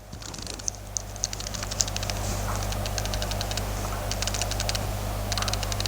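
Christopher Ward dive watch with a one-way dive-time bezel being turned, producing a rapid series of small, crisp clicks in close-up, occasional bursts over a steady low hum.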